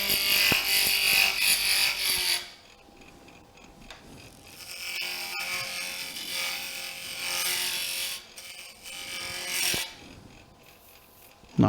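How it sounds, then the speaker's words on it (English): Spindle roughing gouge turning wood on a lathe, a loud scraping rasp that runs in two or three bursts and sinks to a quieter hiss between cuts. "So I own a spindle roughing gouge."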